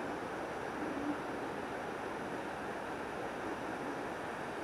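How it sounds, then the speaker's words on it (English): Mountain stream water running beside a rocky ridge trail on Franconia Ridge, a steady, even rush of broadband noise with no breaks, heard alone at moderate level. "Nice water running down right through."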